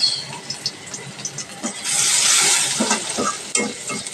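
Onion frying in a pan, sputtering sizzle with bursts of stirring and a louder hissing swell midway, close and fairly loud.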